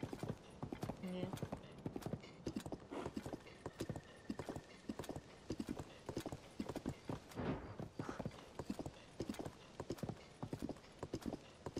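Steady hoof clip-clop of a horse ride in the video game Zelda: Tears of the Kingdom, a rapid continuous rhythm with an occasional whinny, heard under players talking.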